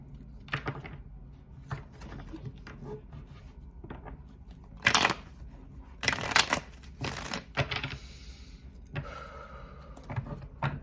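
An OG Energy Oracle card deck is shuffled by hand in a quiet room, producing soft, scattered riffling and tapping that rises into several sharper, louder bursts of card noise.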